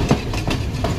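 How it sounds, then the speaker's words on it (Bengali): Train winding through sunny hill country in Sri Lanka toward Ella: a close, loud rumble with soft rhythmic clacks of wheels on rail joints, heard alone without talk. "পাহাড়ের ফাঁক দিয়ে ট্রেন চলেছে আমাদের দুলতে দুলতে এলা।"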